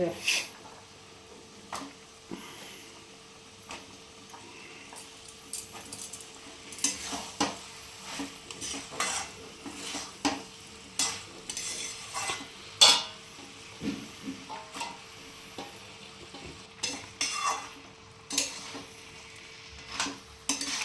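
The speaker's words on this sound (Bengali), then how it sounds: "ভালো করে মিক্স করতে হবে লাউটার সাথে" Bottle gourd stirred with goat fat in a sizzling pan, steady frying hiss under repeated scraping and clinks of a spatula against metal, with people talking throughout.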